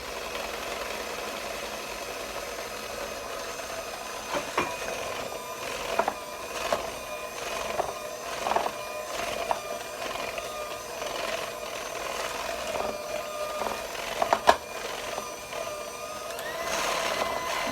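An electric mixer whirs steadily through pineapple pound cake batter in a bowl, with a constant motor hum and scattered clunks and knocks as the bowl is turned.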